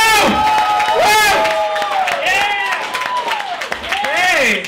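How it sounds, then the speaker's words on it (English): A comedy club audience applauds and cheers a comedian taking the stage, with loud whoops and shouting voices rising over steady crowd clapping throughout. "give a big round of applause for Daniel Timothy DeRozier!"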